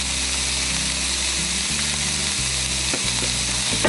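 Ground meat and onion with salt and pepper being stirred in a hot pan, a steady loud sizzle with a low rumble that shifts as the food is moved, no voices.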